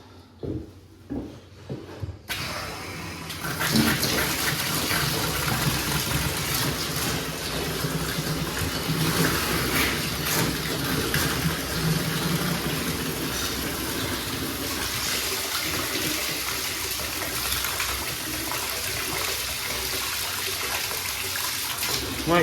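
Water running hard from a tap into a waste pipe while a plumbing job is tested, a sudden loud gushing rush that starts after a few knocks and holds steady throughout.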